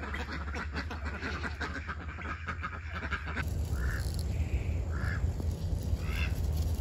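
Ducks quack in a farm pen in a few short, separate bursts, coming in over steady outdoor background noise partway through.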